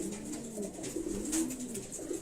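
Racing pigeons cooing in a breeding loft, soft repeated low coos running steadily through the whole stretch with faint bird chatter, close and moderately loud, no talk.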